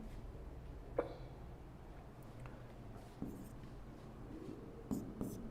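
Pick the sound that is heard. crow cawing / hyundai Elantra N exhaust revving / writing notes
writing notes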